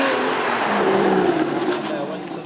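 A V12 supercar engine revs loudly and close by at a supercar weekend gathering, a sustained rising and falling roar that fills the whole moment, with a voice talking over it.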